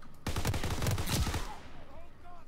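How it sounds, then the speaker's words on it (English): A Grease Gun submachine gun fired in Call of Duty WWII on Aachen: one loud, continuous burst of rapid automatic fire lasting over a second, then quieter game sounds. "Grease gun."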